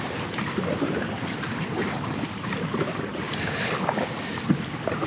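Inflatable kayak (Sandbanks Style Optimal 2022) gliding on open water, a steady broad wash of water rushing past the hull with wind noise on the microphone and occasional soft paddle splashes, continuous and fairly close.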